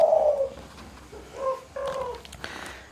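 A spotted dove or zebra dove coos close by, a few soft rounded calls in short phrases with quiet gaps between them.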